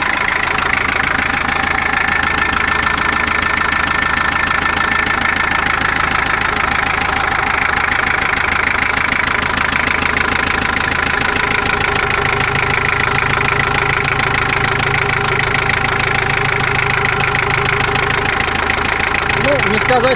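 Ageing Ford Sierra 2.3 diesel engine idling with a loose, rustling belt and worn engine mounts, a steady close clattering rumble throughout with someone talking over it.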